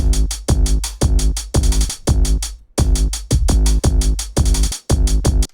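A loud, full drum beat with punchy kicks and bright percussion in a steady driving rhythm, briefly dropping out twice before resuming.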